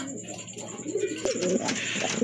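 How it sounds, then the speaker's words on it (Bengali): Pigeons coo in soft, low, wavering phrases over a busy background, with a few sharp clicks and knocks nearby. "এখানে কিন্তু আরেক জোড়া কবুতর আছে"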